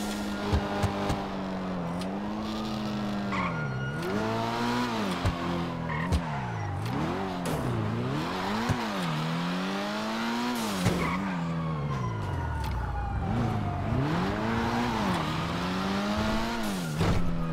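Engine of a car driven in the GTA Online game, revving up and down in steady waves with frequent gear shifts, plus intermittent tire squeals and skids, loud and close throughout.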